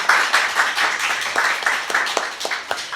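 An audience claps for a guest on a Korean literary radio show, steady applause of many hands, close and lively for a few seconds with no talk.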